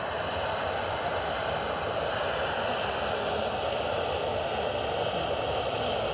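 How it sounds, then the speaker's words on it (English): Ryanair jet airliner departing for Hamburg, a steady loud engine roar with broadband rushing noise held at constant level throughout, heard from a distance on the ground. "So this departure, Ryanair to Hamburg."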